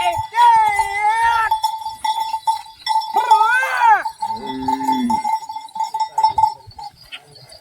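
Bullocks with bells being moved on a dairy farm, a clanking cowbell ringing steadily close by while animal bleats and a short low call sound in between.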